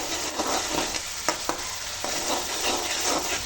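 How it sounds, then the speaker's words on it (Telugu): Ginger garlic paste sizzles steadily in a pan for red chilli chicken, with a few sharp scraping strokes of a spoon breaking through the continuous frying hiss; no talk. "1 స్పూను అల్లం వెల్లుల్లి పేస్ట్ వేసుకొని దాన్ని కూడా బాగా పచ్చివాసన పోయేంత వరకు"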